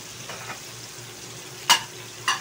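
Chicken wings and garlic fry in oil, a steady soft sizzle broken by two sharp metallic clinks of a utensil against the pan near the end.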